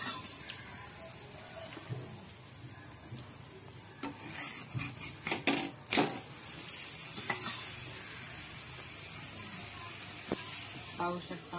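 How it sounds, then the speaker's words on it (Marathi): Flatbread (poli) stuffed with dry fruit roasting in ghee on a hot pan, a steady soft sizzle with scattered crackles and a few louder pops midway, occasional quiet voice in the background. "त्याला आपण तुपाने भाजत आहोत."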